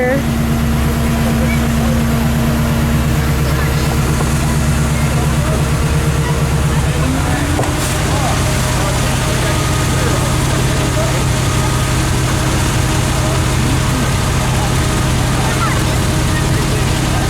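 A 4x4 rock buggy's engine drones steadily nearby on a rocky trail while the vehicle is stuck on a tree, its low hum shifting pitch partway through, with other buggies moving around and people talking over it.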